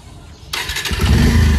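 A Bajaj Pulsar motorcycle engine starts close by: quiet at first, then a sudden broadband burst as the starter turns over, followed by the engine catching into a loud, steady low rumble.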